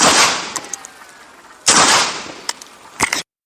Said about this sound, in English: aims his weapon and fires 10 bullets at the book.